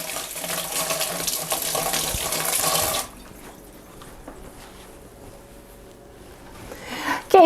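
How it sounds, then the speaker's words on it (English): Tap water runs steadily into a sink while hands are washed, a loud broadband rush for about three seconds, then the flow drops to a much quieter trickle and splashing before a brief clatter at the end. "Let me wash my hands."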